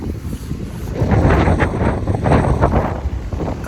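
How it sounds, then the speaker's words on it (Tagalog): Strong typhoon wind blowing outdoors in Taiwan, a steady roaring rush with heavier gusts buffeting the microphone throughout, with no one talking. "Labas pa rin yung bagyo."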